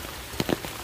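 Rain falling at old graves, a steady wash of patter with a few brief louder drops splashing close by, no voices.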